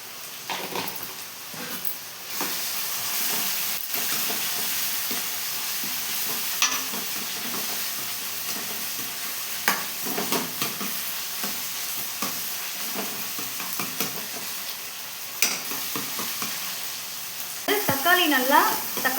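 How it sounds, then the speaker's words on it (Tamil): Tomatoes sauté and sizzle in a pan for a Chakra fish curry, the steady frying hiss broken by repeated scrapes and clinks as the pan is stirred, with a sharper metallic burst of stirring near the end. "தக்காளி நல்லா வதங்கட்டும்."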